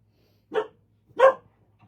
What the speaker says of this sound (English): we made the whole hour with no barks except one